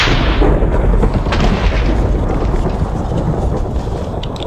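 Thunderstorm in the Minecraft video game: a loud, dense roar of rain and rumbling thunder filling the whole clip, steady and heavy with a deep low rumble and no talking.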